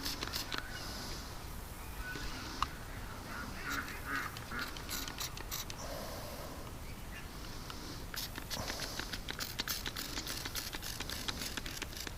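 A small duck being cut loose with scissors gives faint, scattered quacks among rustling and patter, with no voices.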